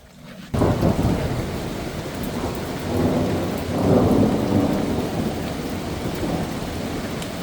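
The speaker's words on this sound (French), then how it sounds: "la pluie elle va passer" Rain falls heavily during a thunderstorm, with a dense steady hiss and deep rolling thunder swelling twice over several seconds, loud and close, with no talk.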